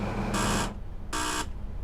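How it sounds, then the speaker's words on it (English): In the train simulator game Train Sim World 3, the guard's buzzer on a train sounds two loud, close electronic buzzes, each about a third of a second long, over a steady low rumble. "we hear the guard's buzzer"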